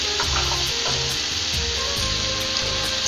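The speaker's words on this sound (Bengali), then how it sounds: "এবার আমি এর মধ্যে ক্যাপসিকাম দিয়ে দিলাম আর টমেটোটাও দিয়ে দিলাম" Capsicum, tomato, onion and green chili hit hot oil in a frying pan for egg bhurji curry, making a loud, continuous hissing sizzle with faint stirring scrapes underneath.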